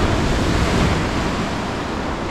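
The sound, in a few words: ocean waves breaking at Durdle Door, Jurassic Coast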